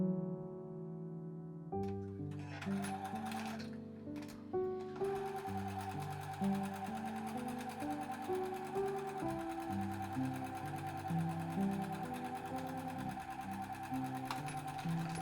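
A sewing machine stitches one side of a pair of fabric sun hat crowns together, its motor whirring in a rapid mechanical rhythm after a brief start, running steadily and close with a few short pauses.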